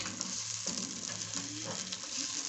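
Beans simmer in coconut sauce in a pot with carrots added, giving a soft, continuous bubbling sizzle and a low hum, close and fairly quiet, with no voices.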